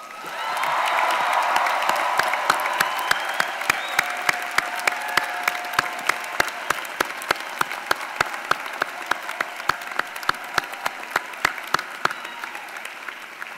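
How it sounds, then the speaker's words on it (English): Resounding applause from guests and graduates at a university commencement ceremony, a big sustained roar of many hands that slowly thins into scattered individual claps echoing in a large hall. "show your appreciation to them with resounding applause"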